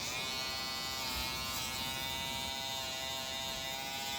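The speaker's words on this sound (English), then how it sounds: "lifting up with my comb and just trimming these little excess hairs" Electric hair clippers buzz steadily and close up, a continuous even whine trimming small excess hairs during a men's home haircut.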